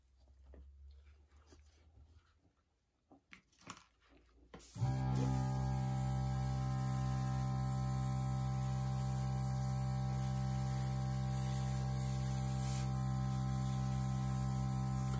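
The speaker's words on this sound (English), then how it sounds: "now I will start with my air compressor" An air compressor starts abruptly after a few seconds of quiet handling noise and then runs steadily and loudly with a strong mains-like hum, used to blow metallic paint across a held-up canvas in a waterfall pour.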